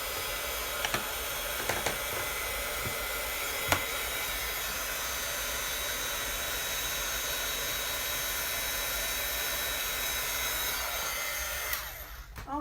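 A heat embossing tool blows steadily as it melts white embossing powder on a birthday card, giving a continuous close airy whir with a few faint clicks, then switching off near the end.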